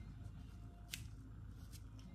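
Two quiet snips of scissors cutting through wig lace, close up, over a low background hum.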